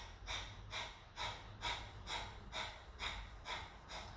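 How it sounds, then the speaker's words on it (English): Rapid, rhythmic breath of fire from a kundalini yoga practice, sharp forceful exhales through the nose repeating about twice a second at an even pace, close and fairly quiet. "2 minutes of here, breath of fire."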